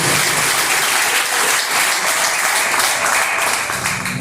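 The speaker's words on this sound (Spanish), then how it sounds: "Dale fuerte ese aplauso a Dios" A church congregation claps loudly and continuously during a Spanish-language sermon, a thick, even wash of many hands with no break from start to finish.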